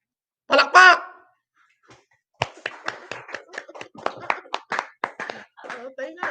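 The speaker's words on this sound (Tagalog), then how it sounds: "Palakpak!" A small group in a Filipino broadcast commentary setting claps in scattered, uneven handclaps that follow a brief shouted call, with faint voices creeping in near the end.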